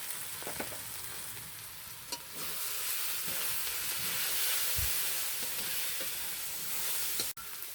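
Spice paste for a carrot and prawn curry fries and is stirred in a pan, a steady bright sizzle running throughout with occasional scrapes and one sharp knock near the end.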